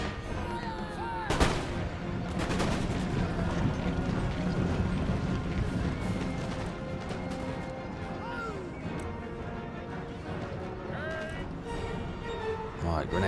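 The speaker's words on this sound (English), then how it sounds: "Right, now use your grenades." Grenade explosions and musket gunfire crackle through a battle in Empire: Total War during a British campaign, with a dense, continuous din of shots and thuds, and a voice speaking over the fighting.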